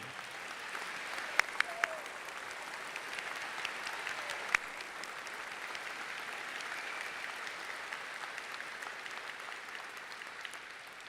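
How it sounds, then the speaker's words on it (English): Audience at a university health sciences school of medicine commencement applauds in sustained, even clapping that fills a large hall, with a few sharper claps and faint whoops standing out near the start. "Will the audience please join me in applauding?"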